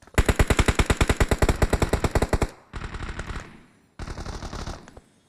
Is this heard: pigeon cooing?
no